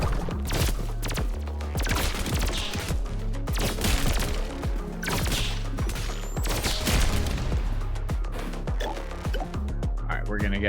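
A burst-fire gun shooting in the roguelike video game Pathogenic, with sharp, clustered volleys of shots repeating rapidly over a droning game soundtrack.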